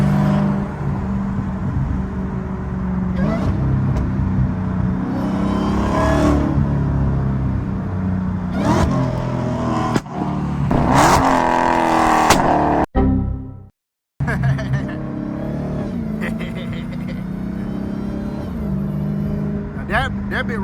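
A Dodge Hellcat's engine roars loudly from inside the car, rising in sharp revving surges with a brief cutout partway through, while a voice talks over it.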